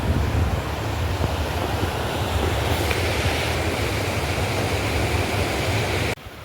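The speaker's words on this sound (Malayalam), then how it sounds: "മലയുടെ മുകളിൽ നിന്ന് വെള്ളം വരുന്ന വഴിയാണ്" Water rushes down from a hilltop at Meenpidipara in Kottarakkara, Kollam, making a steady, full roar of flowing water that holds at an even level throughout and cuts off near the end.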